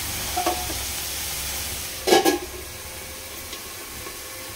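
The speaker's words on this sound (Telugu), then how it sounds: "ఉల్లిపాయ బాగా ఎగుతాయి." Onions fry with a little salt in a pan for a bottle gourd curry, giving a soft continuous sizzle interrupted by one brief louder clatter near the middle.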